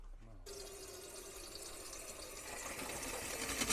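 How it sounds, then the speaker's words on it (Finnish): Tap water pours into a whistling kettle, a steady bright splashing stream that starts abruptly and rises slightly in pitch as the kettle fills, close and fairly faint. "Vettä pannuun."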